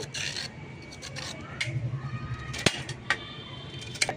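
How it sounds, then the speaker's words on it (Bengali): A carrot being peeled: short rasping scrapes repeat close by, fairly soft, with a few sharper clicks near the end. "এর ওপরের ছোলটা আমি এইভাবে ছাড়িয়ে নিচ্ছি।"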